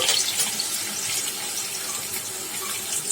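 Potato pieces fry in hot oil for a Bengali chicken curry, giving a loud, continuous close-up sizzle with a bright crackling edge and no speech.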